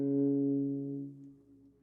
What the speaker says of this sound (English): So a tiny bit of reverb, a tiny bit of movement to it.